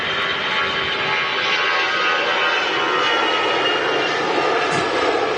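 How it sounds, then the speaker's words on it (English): An EasyJet jet airliner roars loudly and continuously as it takes off from Manchester Airport, a broad, sustained engine rush with no voices over it. "EasyJet rocketing out"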